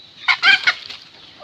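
Backyard hens give a short burst of three or four close clucks around feeding time, then fall quiet.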